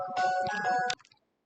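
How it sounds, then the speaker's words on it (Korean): A strange-sounding phone ringtone plays a short bright electronic melody for about a second, then stops abruptly, heard alone and fairly quiet. "이상한 벨소리가 울리네요"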